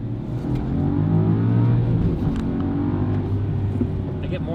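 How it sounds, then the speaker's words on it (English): Up close, a BMW G90 M5 with a Valvetronic Designs valved sport exhaust and active sound turned off holds a loud, steady, deep engine note, then drops to a rougher, more natural idle-like rumble. "I get more of a natural engine sound."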